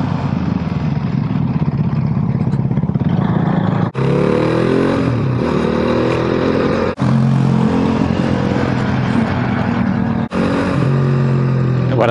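Motorcycle engine heard from the rider's position during a first Saturday group ride of 2020, a steady loud droning roar with broadband wind rush, interrupted by three brief drops around gear changes.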